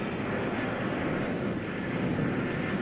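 A fixed-wing airliner arriving at DFW Airport from San Antonio gives off a steady broadband jet roar, constant and fairly loud for a few seconds, with no distinct events.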